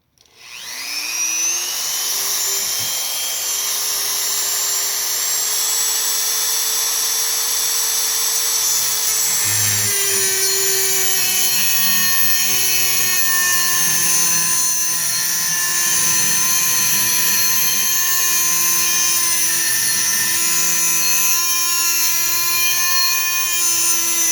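High-pitched power tool cutting front slide serrations into a Glock 19/23 pistol slide, a loud continuous whine that spins up and holds for over twenty seconds, with grinding against the metal beneath.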